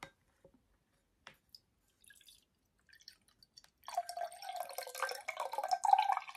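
Liquid from a chamoy pickle kit pours in a steady, gurgling stream after a few faint clicks and drips, close and quiet.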